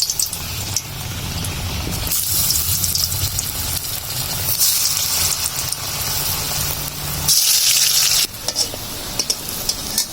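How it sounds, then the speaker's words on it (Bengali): Four pieces of vegetarian mock fish fry in hot oil in a wok, giving a steady, close hiss and sizzle that swells into louder bursts as the pieces are stirred. "তেলটা গরম হয়ে গিয়েছে, আর মা এখন মাছের পিসগুলো তেলে ছেড়ে দিচ্ছে।"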